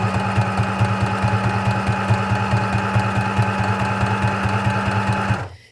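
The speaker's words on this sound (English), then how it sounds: "this sewing machine doesn't work so well sometimes" A sewing machine that sometimes malfunctions stitches steadily in a fast, even mechanical rhythm, close up, then stops abruptly at the end.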